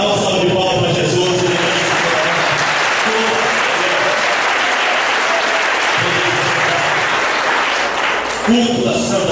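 A church congregation breaks into loud, sustained applause during a worship service, a dense wash of clapping with voices underneath that continues throughout.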